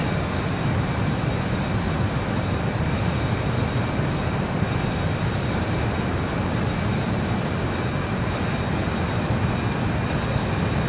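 A Challenger 300 business jet taxis in the X-Plane 11 flight simulator, giving a steady, dense engine roar and rumble that holds constant throughout, with no voices.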